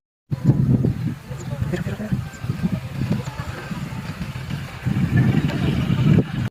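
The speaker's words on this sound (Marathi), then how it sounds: "मामा तर फर्स्ट टाइम ट्रॅक्टर चालत होते तरी पण टर्न बघा टर्न" Tractor engine running steadily as it turns in a field during maize sowing, a low rumbling drone that surges near the end, with people talking over it.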